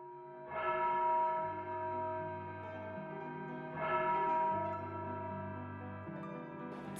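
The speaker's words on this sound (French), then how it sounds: "La cloche de Saint-Nicolas sonne le glas funèbre." The church bell of Saint-Nicolas tolls a funeral knell, two slow resonant strikes a few seconds apart, each ringing out and decaying into a long humming tail with no voices.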